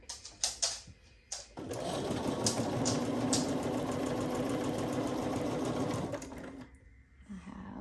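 A sewing machine stitches a quilt block corner to corner: a few handling clicks, then a steady, close motor hum and rapid needle chatter for about four and a half seconds before stopping.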